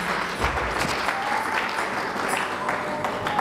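A church congregation claps during a sermon, with individual claps audible in a full, fairly loud round that keeps a loose rhythm for several seconds.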